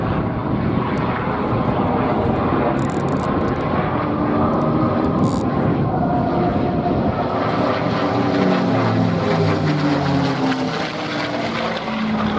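Propeller-driven P-51 Mustang warplanes passing low overhead at an airshow, a loud continuous engine roar with a throaty, rising and falling drone that stays strong throughout.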